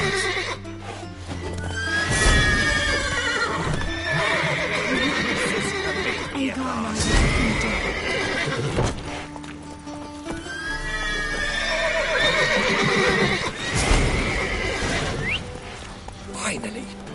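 Horses in The Witcher 3 whinny and neigh in several loud bursts over clip-clopping hooves and game ambience, with some mechanical clinks between calls.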